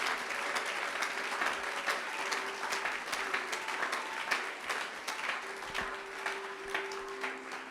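A church congregation applauds steadily throughout, a dense, even wash of clapping at moderate distance with faint voices mixed in.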